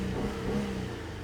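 A car engine idles and then revs briefly as the accelerator is pressed, a steady close mid-pitched hum that rises slightly, with no talking.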